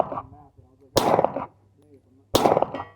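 Two loud, sharp handgun shots about a second and a half apart, fired at a range comparing a SIG 320 fitted with a red dot sight against a 1911, with faint talk in the gaps between the shots.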